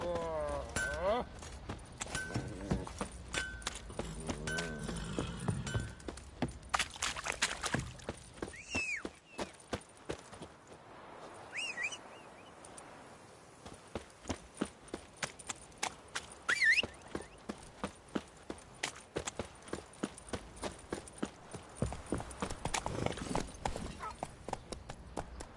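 Roach, the horse in The Witcher 3, gallops with rapid rhythmic hoof clip-clops that run steadily throughout, partly under in-game dialogue and a streamer's voice.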